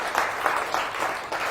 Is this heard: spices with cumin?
no